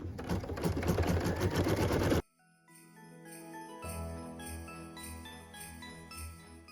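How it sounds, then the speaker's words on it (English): A home embroidery machine runs loud and fast, stitching a round window detail on a Christmas ornament, then abruptly stops and gives way to soft, tinkling background music. "So what we're stitching right now is that window detail for the circle window."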